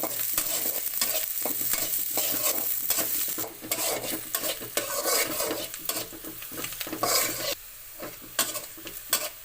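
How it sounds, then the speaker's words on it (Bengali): Chopped onions fry in hot oil in a wok while a spatula stirs and scrapes them, a close sizzling hiss broken by repeated rhythmic scraping strokes and light clatters of metal on the pan. "এবার পেঁয়াজ কুচি দিয়ে"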